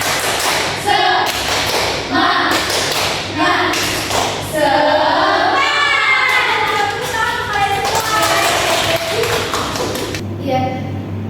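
A primary-school class claps the 'tepuk semangat' rhythm in bursts of quick, loud, patterned claps, with children's voices chanting along between and over the beats.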